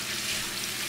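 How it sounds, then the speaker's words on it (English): Cold water runs from a kitchen tap over a Christmas turkey breast, a steady close hissing rush that fills the whole moment with no one speaking. "run the water,"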